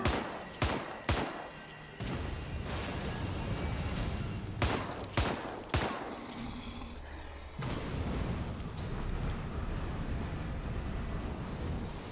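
Double-barrel shotgun in The Evil Within 2 firing both barrels at once, several loud, sharp blasts spaced a second or two apart, each followed by a rumbling tail, set against a steady roaring game ambience.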